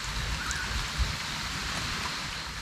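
Steady rain falls outdoors during hook-and-line fishing with earthworm bait in rural northeastern Thailand, a continuous even hiss of drops with a soft low patter underneath and no talking.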